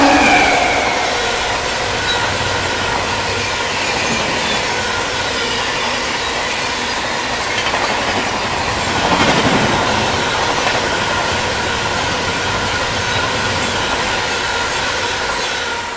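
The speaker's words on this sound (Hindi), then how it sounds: "फ्लैट 130 की रफ्तार में अपनी रीवा सुपर फास्ट एक्सप्रेस" Rewa Superfast Express 12427 running flat out at 130 km/h, a loud continuous rush of wheels and wagons with steady rail roar, a brief swell midway and faint squeal, sustained throughout with no talking.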